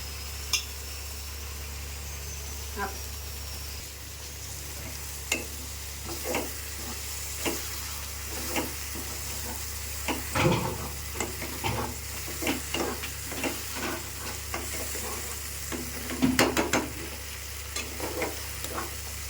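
Paneer curry base frying in a pan, a steady sizzle with repeated sharp scrapes and clinks of a spoon stirring against the pan, no voices.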